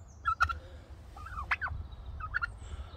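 Norfolk Bronze turkey gobbling among chickens, with three short gobbling bursts spaced about a second apart over a steady low farmyard rumble, fairly close.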